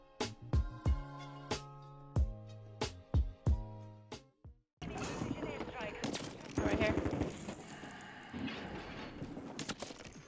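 XRK Stalker rifle fires in Warzone 3 as a few sharp, evenly spaced single shots ring out, then give way to a dense stretch of rapid gunfire and chaotic combat noise.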